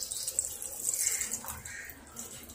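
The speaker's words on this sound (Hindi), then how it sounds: "2 कप हमने पानी लिया है, ये डाल देंगे।" Two cups of water are poured into a pot of beef white karahi, a steady soft splashing and trickle heard close and fairly quiet.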